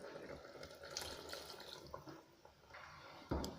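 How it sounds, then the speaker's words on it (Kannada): Water is added to ground masala in a pan for radish sambar, a faint close splashing and trickling pour with small drips and a brief louder splash near the end. "ಸ್ವಲ್ಪ ನೀರು ಆ್ಯಡ್ ಮಾಡ್ತಾಯಿದ್ದೀನಿ."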